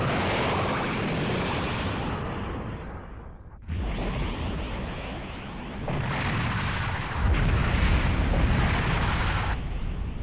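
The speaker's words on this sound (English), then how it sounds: "they fire the cannon" Heavy, booming cannon fire from the anime film Macross: Do You Remember Love?, with roaring rumble, loud blasts and rushing noise, changing in waves without any talking.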